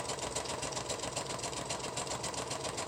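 Sewing machine zigzag stitching across a paper belly band for a craft journal, a fast, even mechanical rattle of the needle running continuously up close.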